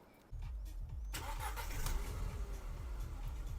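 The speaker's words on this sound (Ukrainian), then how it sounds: "Автомобіль завівся з півтику, не димить, не троїть." A 2004 Audi A4 B7 1.6 MPI engine cranks and catches after a brief silence, then settles into a steady, close idle with a rhythmic low throb.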